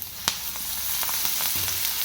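Dry roasting in an empty pan with no oil, a steady soft hiss with a few sharp scrapes or pops, close and without talk.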